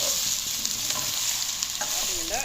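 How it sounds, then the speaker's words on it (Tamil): Soya meat curry stirred in a new nonstick pot, a continuous frying hiss with soft scraping strokes of the spoon, close and without talk. "எல்லாத்தையும் நல்லா கலந்து விடுவோம்"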